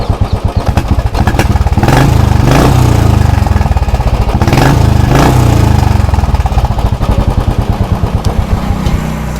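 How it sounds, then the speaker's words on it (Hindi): A Royal Enfield Bullet 350 engine thumps loudly and close by with a fast, even pulsing beat. The throttle rises and falls twice as it revs, then the engine settles back to idle. "ये साउंड है बुलेट का। अब इसका और सुना देते हैं आपको लास्ट टाइम,"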